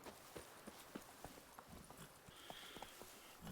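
Roach, Geralt's horse in The Witcher 3, walks with steady, evenly spaced hoof clip-clops at moderate distance over a faint ambient backdrop.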